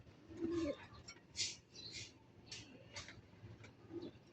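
Soft pigeon coos sound at low volume a few times, mixed with faint chirps and light clicking in the background.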